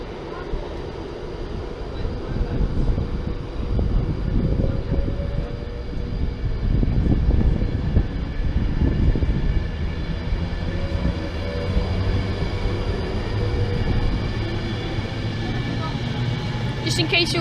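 A passenger train arriving at Wigan station rumbles in steadily with low mechanical noise swelling and easing, wheels and engine hum filling the space, no talking over it.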